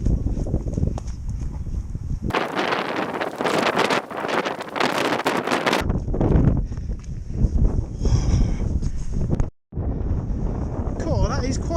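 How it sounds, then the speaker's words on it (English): Strong headwind buffets a microphone during a cycling ride, a loud broadband rush that swells and drops in gusts, with a short sudden cut near the end and a voice speaking over it. "that is quite a headwind"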